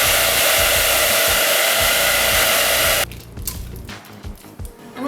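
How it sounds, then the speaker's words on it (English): A hairdryer blows loud and steady on sculpting clay for about three seconds, then cuts off, leaving quiet handling and tapping noises nearby. "mold it down with a hairdryer quickly"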